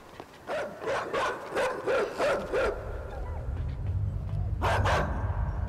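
A dog in a video game barks in a quick run of five or six yaps, then gives one more bark after a pause over a low rumbling game background.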